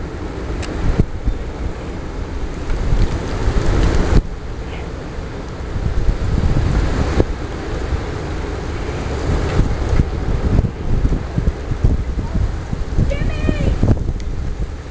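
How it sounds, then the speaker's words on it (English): Strong wind in an Oklahoma blizzard on Christmas Eve 2009, a loud continuous roar buffeting close against the microphone with gusty surges throughout. "listen to the wind"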